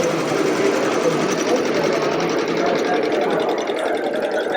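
An embroidery machine stitching at a Ricoma apparel trade event, running as a loud, continuous mechanical whir with fast, even needle chatter, with crowd voices blended in behind it.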